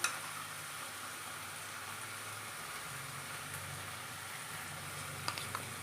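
Fish frying in a pan with ginger paste added, a quiet, steady sizzle with a soft knock at the start and a couple of faint clicks near the end.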